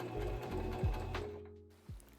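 A sewing machine runs in steady bursts, stitching the shoulder seams of a vest's front and back bodice pieces with a 1 cm seam allowance; the motor whirs close and loud, pausing briefly near the end before restarting.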